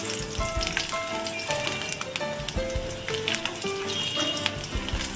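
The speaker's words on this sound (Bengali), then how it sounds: "রসুনগুলোকে একটু আমি মাঝখান ফ্রাই করে নিই" A few garlic cloves fry in hot oil in a pan for a cauliflower bharta, a dense, continuous close sizzle with popping crackles and occasional stirring.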